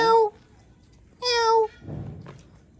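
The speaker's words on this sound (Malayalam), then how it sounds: "പൂച്ചയുടെ സൗണ്ട്" A cat meows twice, two clear, drawn-out calls with a short gap between them, close and loud, followed by a faint soft thump.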